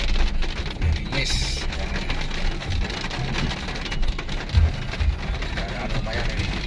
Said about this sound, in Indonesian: Tapi sayangnya lagi ini gerimis.